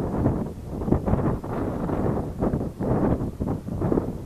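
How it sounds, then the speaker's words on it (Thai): Cool wind gusts across the microphone at a hilltop temple in Rayong, Thailand, a steady rumbling rush that swells and fades in waves with no voices. "ลมเย็นนะครับ"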